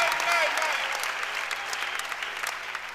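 A church congregation claps together during an evening service, brisk dense applause that swells at first and then thins into scattered clapping, with faint voices mixed in.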